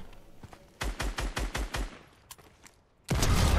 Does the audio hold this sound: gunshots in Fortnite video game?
yes